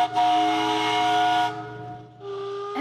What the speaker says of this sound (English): and also steam whistles